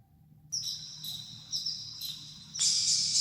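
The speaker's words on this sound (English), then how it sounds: "These are some birds and some jungle sounds." Bird calls and jungle ambience layered into an electronic music track: high repeated chirps arriving in short rhythmic bursts over a faint low bed, growing denser and brighter toward the end.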